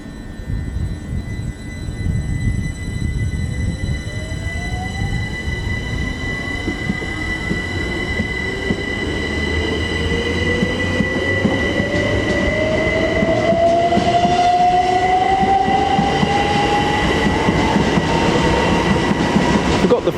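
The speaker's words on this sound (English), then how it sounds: "Departing Cambridge for King's Lynn is a pair of Great Northern 387-1s." A pair of Great Northern class 387 electric multiple units departs Cambridge for King's Lynn, a rising electric motor whine building over steady wheel rumble and rail noise, getting louder as the train gathers speed, with no talk.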